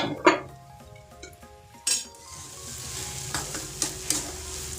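Vegetable spring roll stuffing with capsicum cooks in a pan under a lid, with a few sharp metallic clinks from the utensil and lid, then a steady, soft hiss of steaming and sizzling.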